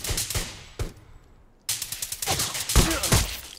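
Gunfire in a PUBG-style survival video game, bursts of sharp rapid shots with a brief lull, then dense fast volleys, loud and close.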